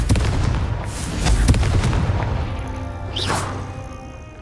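Confringo blasting-curse explosions in Hogwarts Legacy, a cluster of close booming thumps and crackling blasts over dense game noise, with a whooshing sweep near the end.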